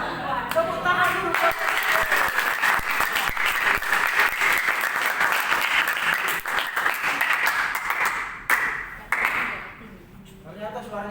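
Loud, dense applause from a church congregation fills the hall for about nine seconds, then thins out, with voices mixed in at the close.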